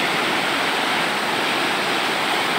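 River water rushes at Majayjay, Laguna, a loud, dense, steady broadband roar close by with no breaks.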